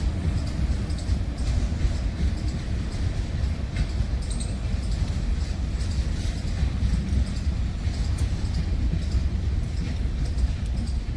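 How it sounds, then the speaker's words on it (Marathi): A train arriving at a station rumbles steadily nearby, with low continuous rolling noise and faint rail clatter throughout. "मस्त ट्रेन पण आलेली आहे"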